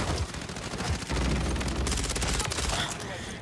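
Rapid automatic fire from the ISO 9mm submachine gun in Call of Duty: Modern Warfare III, a dense, continuous, close stream of shots that carries on without a break.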